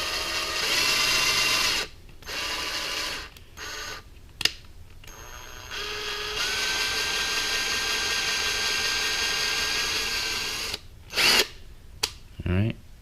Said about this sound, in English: drill into it